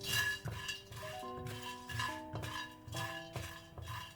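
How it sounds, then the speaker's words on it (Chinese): Aromatics being dry-fried in an unoiled pot over low heat, stirred with a utensil that clinks against the pot in a steady rhythm of scrapes and taps, close and fairly quiet, with sustained tonal ringing from the metal and no talk. "先将小料放进来，开小火煸炒一下"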